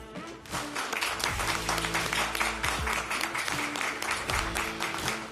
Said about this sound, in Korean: 모두 자리에서 일어나 큰 박수로 맞이해 주시기 바랍니다.